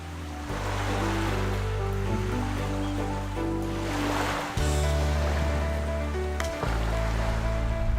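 Ocean waves wash onto a deserted beach in a broad, steady surf roar with swelling surges, layered under sustained background music.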